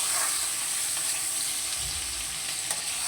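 Chopped tomato sizzles in hot oil with black cumin, a dense, loud, continuous crackling hiss heard close up, with a brief low rumble of stirring partway through.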